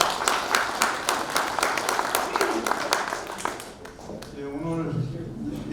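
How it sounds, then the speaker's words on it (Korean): Applause of thanks from an outdoor crowd at a launch ceremony in Gwanghwamun Square, Seoul, starting loud and gradually thinning out, after which a voice begins speaking over the last scattered claps. "감사의 박수를 보내주시기 바라겠습니다."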